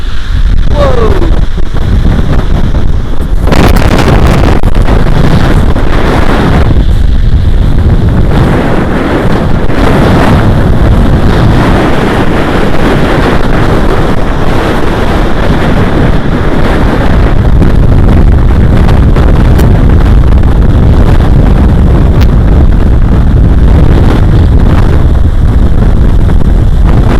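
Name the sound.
big waves crashing against a seawall in strong wind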